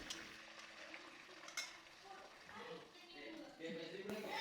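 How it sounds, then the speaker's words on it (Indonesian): Egg frying in reused, filtered oil in a new wok, giving a steady crackling sizzle with occasional sharper pops and utensil scrapes, close up and continuous throughout. "Makanya aku gunakan kuali yang baru ya untuk goreng telurnya."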